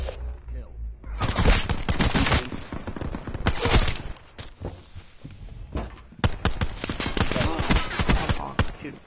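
Call of Duty Black Ops 4 gameplay carries dense, loud bursts of automatic gunfire and rapid single shots in near-continuous volleys for about nine seconds, with game voice and player chatter mixed underneath.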